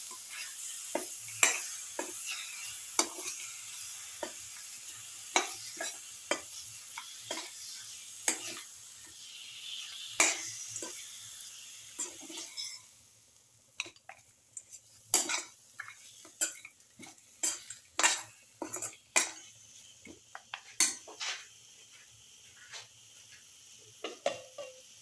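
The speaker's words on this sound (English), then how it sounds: "thoroughly mixing the mutton ribs with the rest of the mixture" Mutton ribs are stirred with spice mixture in a cooking pot, making a steady run of close scraping and clinking utensil strikes against the metal, irregular and busier toward the end, with a faint sizzle underneath.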